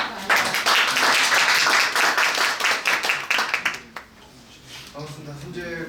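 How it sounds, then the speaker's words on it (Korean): Seminar audience claps in a brisk, dense burst of applause that fades out after about four seconds, leaving a voice speaking. "박수 맞으시고"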